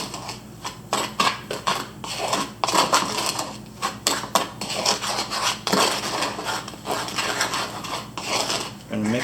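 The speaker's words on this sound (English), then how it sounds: "then we're going to mix that up. So the sand and the cornstarch in that one." Sand and cornstarch being mixed in a container for kinetic sand, giving repeated close scraping and gritty clatter in irregular bursts, with some talk nearby.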